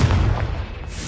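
A Confringo spell explosion in Hogwarts Legacy, a single deep, rumbling boom that fills the moment and fades slightly, close and loud with no talk.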